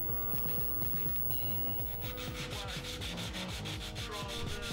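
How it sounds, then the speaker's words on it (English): Hand sanding along the edges of a wooden keyboard case, a close, steady rhythmic scratchy rubbing that repeats in quick strokes throughout, with no voices. "but nothing a little hand sanding couldn't handle."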